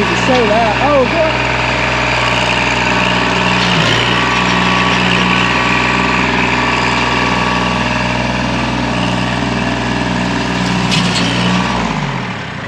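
A small tractor pulling out trees during a sinkhole cleanup in Waverly Hall, Georgia, holds a loud, steady engine drone close by for about twelve seconds, with voices over the start before the engine fades at the end.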